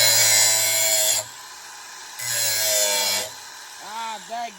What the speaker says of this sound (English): brand new grind wheel makes a difference